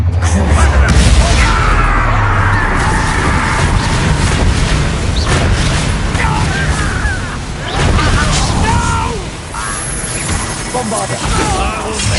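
Bombarda blasting spells in Hogwarts Legacy combat: heavy booms and crashes land in a dense, loud battle din that runs without pause, with voices talking over it.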